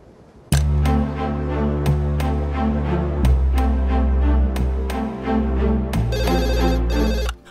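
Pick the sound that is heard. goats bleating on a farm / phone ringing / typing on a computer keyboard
phone ringing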